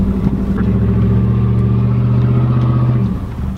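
A Ford F250 pickup truck's engine revs hard and steadily while driving through sand, a loud, sustained low drone for about three seconds that eases off near the end.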